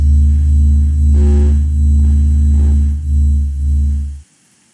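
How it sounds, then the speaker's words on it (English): A NASA sonification of the sun plays as a deep, droning hum with slow pulsing swells and a faint hiss, loud and steady before it cuts off abruptly. "But you know what? The sound of the sun does, to me, sound like the sun."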